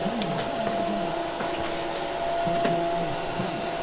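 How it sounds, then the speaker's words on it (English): A steady mechanical hum with a faint whine runs throughout, from solar air heating panels blowing hot air into a shop, running nearby at low volume. "that noise you hear is the solar panels running"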